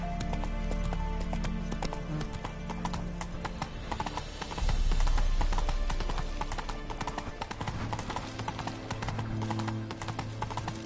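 Horse hooves clip-clop steadily in the Witcher 3 video game as the horse is ridden, with a brief louder rumble and snort midway, under background game music and ambience.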